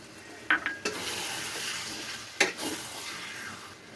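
Tomatoes cook in a pan for an Odia-style chicken curry, a soft steady sizzle broken by a few clinks and scrapes of a spoon stirring against the metal, close and fairly quiet with no talking.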